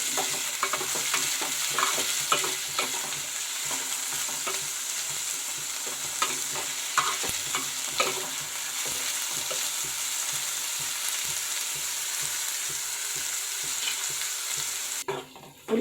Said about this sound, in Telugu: పచ్చిమిరపకాయలు వేస్తున్నాను. ఇంకా ఇలా కలుపుకోవాలి.